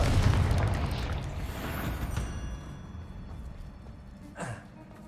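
A Confringo spell explosion in a video game lands as a deep, loud boom at the start, then decays into a rumbling tail, with a smaller whooshing burst near the end.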